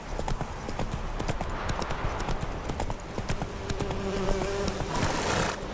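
Geralt's horse Roach galloping in the video game The Witcher 3, rapid clip-clop hoofbeats throughout alongside buzzing insect-like ambience and game sounds.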